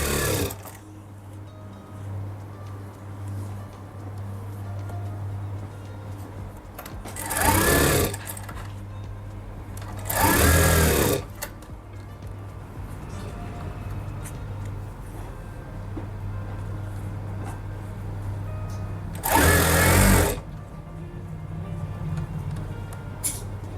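Close by, a sewing machine runs in a steady whirring drone while stitching an Afghani salwar, broken by three louder, brief bursts of faster stitching, with no talking.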